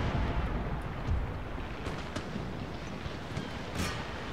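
Naval cannon fire from sailing warships in Empire: Total War with Darthmod, a dull rolling rumble of distant broadside booms blending into a continuous low roar.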